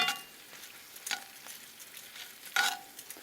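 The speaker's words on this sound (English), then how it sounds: "Give it a little stir." Onions with sugar stirred in a pan, soft scraping strokes and a gentle sizzle, with two brighter clattering bursts from the spoon against the pan.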